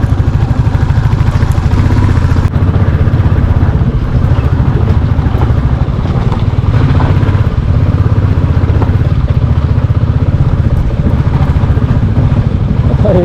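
A motorbike labours loudly and close along a rough, extreme off-road mountain track between Landour and Bhadraj, engine droning continuously with clattering and jolting from the uneven ground.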